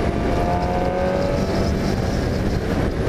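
A 2018 Suzuki GSXR750 motorcycle engine pulls steadily in sixth gear on a roll-on from about 4,000 rpm, a loud, continuous drone with wind rush and no talking.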